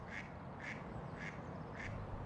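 Ducks quacking near a mink's den by a pipe, four evenly spaced quacks, moderately close over soft outdoor background.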